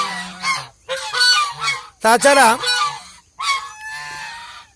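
Brooding geese honk loudly and close by in several long, harsh calls separated by short pauses, with one brief spoken word among them.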